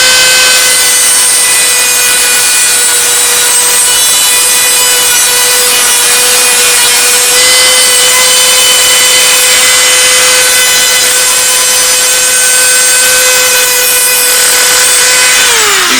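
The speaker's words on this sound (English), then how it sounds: "You're not supposed to use the cutoff wheel on that side, but I do." Cutoff wheel grinding through a pure zinc paddle, a loud, continuous high-pitched whine with a steady tone and grinding rasp that holds unbroken throughout, dropping slightly at the very end.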